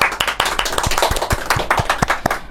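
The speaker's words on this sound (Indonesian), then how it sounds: "Tepuk tangan." A small group claps in a welcome for a guest, sharp distinct hand claps in an uneven rhythm, close and fairly loud, lasting a couple of seconds with no talking.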